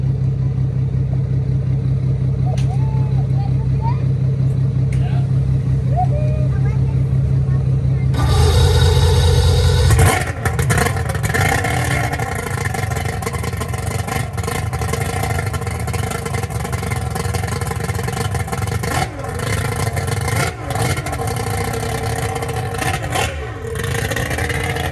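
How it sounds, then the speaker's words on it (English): A fast boat's outboard motor starts up and runs loud and steady, with revving surges and clattering mechanical texture throughout, after a quieter stretch of distant ambience with faint speech underneath. "Good looking motor. Sounds happy."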